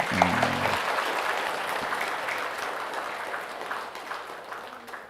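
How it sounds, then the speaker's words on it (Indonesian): A seated audience at an Islamic study gathering answers a preacher's call with a sustained burst of applause, steady and fairly loud, filling the hall after a brief spoken start. "Tepuk tangan dong buat saya."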